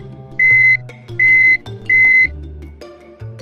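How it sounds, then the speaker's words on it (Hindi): A metal detector machine beeps three times in even, evenly spaced electronic tones, loud and close, over a faint low background. "मेटल डिटेक्टर दरवाजे से गुजरते समय मशीन बीप बीप की आवाज करती है।"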